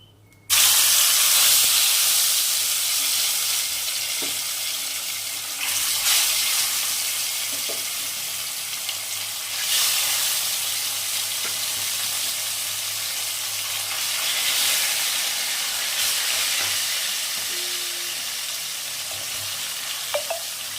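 Live tilapia pieces fry in hot oil with a loud, steady, close sizzle that surges when the fish goes in, then settles into continuous crackling spatter with a few stirring touches.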